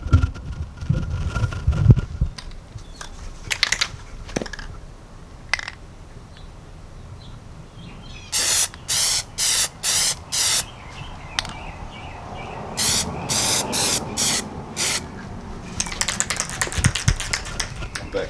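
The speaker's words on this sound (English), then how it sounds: "I'm gonna go ahead and show y'all how I've been spraying them so far" A spray paint can sprays tail light bezels in short, sharp hissing bursts, five in a row and then another quick cluster, close by with quiet handling noises in between.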